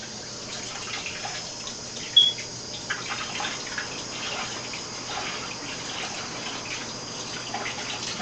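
Dirty aquarium filter media from a neglected breeder tank rinsed under water: a continuous close trickle and splash of running water with scattered drips and a sharper splash early on, with no talking.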